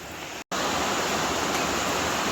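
Steady rushing floodwater pouring over a road during thunderstorms roars without a break, a dense torrent of noise with one brief dropout near the start.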